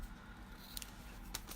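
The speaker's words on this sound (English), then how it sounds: "I'm just going to cut a little piece off of this" Scissors snip a small piece off a paper strip for handmade card crafting, giving two or three soft, quick close cuts over a quiet background.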